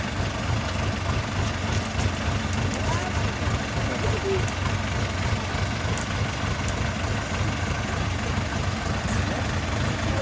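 A DF 404G2 tractor drags a Scout TY404 tractor without front counterweights in a tractor pulling contest, with a steady loud diesel engine drone held continuously and a voice talking over it.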